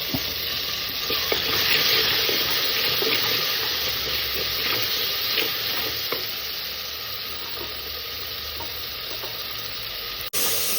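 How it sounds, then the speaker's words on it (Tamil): Steady sizzling and frying of onions and tomatoes sautéing in a pan, with occasional stirring clinks and scrapes, continuous and fairly close, no voices. "வெங்காயம் வதக்கிட்டு தக்காளி போட்டுக்கிறேன்"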